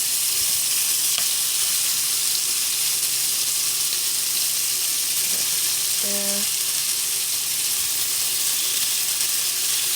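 Surf and turf, seafood and steak, frying in a pan with a loud, steady sizzle that hisses without a break from start to finish, with no talking.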